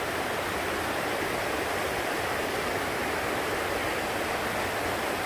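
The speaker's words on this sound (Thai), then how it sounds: "น้ำตกธรรมชาตินะคะ" A natural waterfall roars steadily at a loud, even level, a dense, unbroken rush of falling water with no voices or other sounds.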